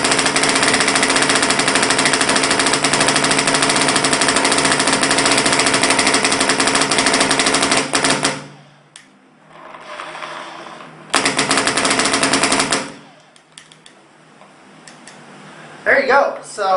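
A Valken VMax paintball marker fires rapid strings of shots in long bursts, the first about eight seconds of continuous fast popping, then a short pause and another burst, loud and close.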